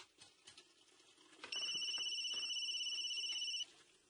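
A phone rings with an incoming call from Miss Chloe, a steady two-tone electronic ringtone that starts abruptly, holds for about two seconds, then stops over a faint indoor background.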